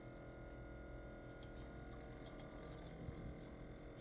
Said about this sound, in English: The water looks like clear coming through the coffee machine.